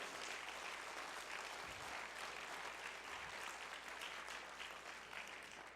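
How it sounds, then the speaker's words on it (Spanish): Church congregation applauding during a sermon, a sustained, even wash of clapping from many hands that sounds somewhat distant and fairly quiet, with no talk over it. "Déle ese aplauso al Señor, mi hermano."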